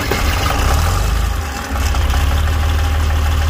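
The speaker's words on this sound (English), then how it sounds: "to hear how 4020 here turns over now with the two new Group 31 batteries, 1100 cranking amps." John Deere 4020 tractor engine with two new Group 31 batteries and a failing solenoid, running loud and close with a steady low idling rumble and a brief dip in the middle.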